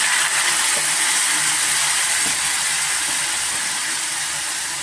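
A loud, steady hiss of lentil cooking water hitting a hot pan of mustard, curry leaf and asafoetida tempering, continuous steam noise filling the whole stretch without letting up.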